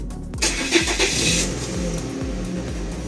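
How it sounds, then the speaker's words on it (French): A Peugeot car engine cranks and catches, then settles into a steady, close idle with a rhythmic low throb, heard alone. "On va mettre le moteur en route."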